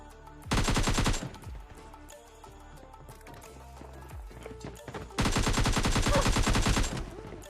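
Automatic rifle fire in PUBG Mobile Lite during a solo-versus-squad fight, two loud sustained bursts of rapid shots separated by quieter game ambience.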